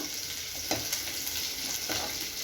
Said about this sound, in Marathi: मी जिरं घातलंय, हिरवी मिरची घातली आहे आणि हे आता थोडंसं ब्राऊन होईपर्यंत